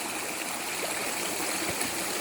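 Clear water runs steadily at a hand-washing spot on the Kuruwita Erathna pilgrimage trail to Sri Pada, a constant close trickling stream with no voices.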